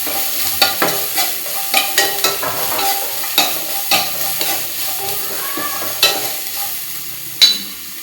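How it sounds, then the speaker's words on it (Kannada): Onions frying with cumin and mustard seeds in a pan for a capsicum curry, a steady close sizzle broken by repeated sharp scraping and stirring knocks, with no talking. "ಉಳ್ಳಾಗಡ್ಡಿ ಚೆನ್ನಾಗಿ ಕರ್ಕೊಂಡಿದ್ದೀನಿ."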